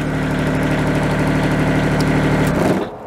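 A Kubota GR2120 diesel lawn tractor engine runs with a loud, steady mechanical rumble close by, then winds down and cuts out near the end.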